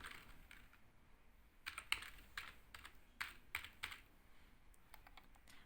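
Light typing on a computer keyboard comes in short irregular bursts of clicks, quiet and close, with no other sound around them.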